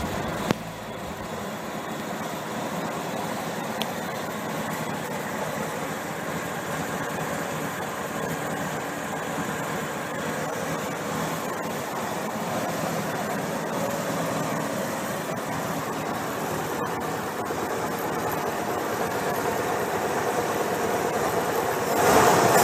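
A Ford 5.0 V8 in a 1982 Mustang GT under restoration runs steadily and smoothly, a continuous mid-level engine drone that holds evenly for over twenty seconds, with no talking.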